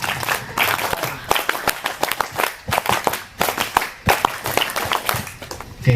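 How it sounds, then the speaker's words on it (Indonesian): A group at a scouting talk show performs a patterned Scout clap, sharp claps bunched in quick rhythmic bursts over two rounds. The sound is loud and close, with brief gaps between the clusters. "2 kali tepuk pramuka."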